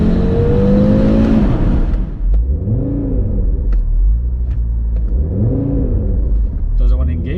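A 2020 Audi RS3 at full throttle: a loud rising engine roar that cuts off, then two surging rev swells with rumbling exhaust, close up, with a person talking over it.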